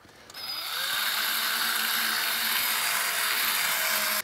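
A power drill with a polishing attachment works scratched clear plastic, spinning up and then holding a loud, steady whine with a rough buzzing edge.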